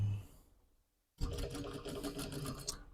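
A sewing machine topstitches the shoulder seam of a hoodie. A quiet lull gives way to a steady, rapid mechanical whirr of stitching that runs close and alone for the rest of the clip.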